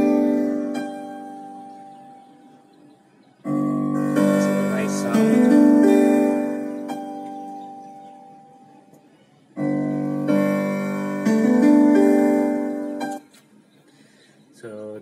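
Music played back through a WM8731 sound card on a Raspberry Pi 4, with two bursts of tonal music separated by quieter sustained passages, clear and close.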